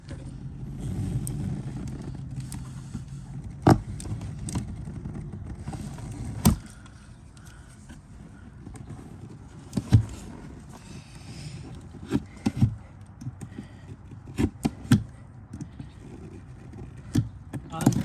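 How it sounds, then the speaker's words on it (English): Plastic is cut along a marked U-shaped line while installing fog light mounts on a 2003-2006 Honda Element; a steady low mechanical drone runs for several seconds, then gives way to scattered sharp clicks and snaps, close and fairly loud. "So now let's just cut and follow this line"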